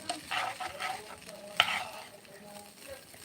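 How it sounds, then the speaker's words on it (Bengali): A spatula scrapes and tosses vegetable noodles in a nonstick pan over a low, steady sizzle, with one sharper knock midway. "খুব ভালোভাবে নেড়ে নিচ্ছি ভাজা ভাজা করে নিবে একদম"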